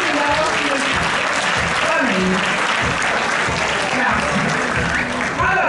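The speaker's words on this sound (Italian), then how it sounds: "l'applauso era un po' basso" Sustained applause from a crowd at a tournament award ceremony on Sardinia, dense steady clapping throughout with a voice speaking over it.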